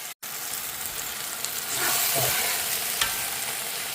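Onions sauté in a pan with a steady, close hiss and sizzle after a brief silent gap, and a few stirring scrapes rise above the frying.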